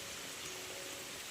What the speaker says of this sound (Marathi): चला पाऊस आला पाऊस आला पाऊस आला.